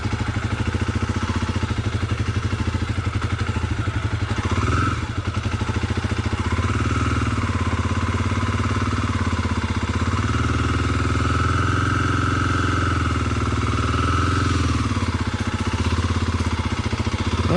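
A Kawasaki KLX250 dirt bike crawls through a slow race on the clutch, its engine a steady, loud low thrum that rises and falls gently as the throttle is feathered, with no talk over it.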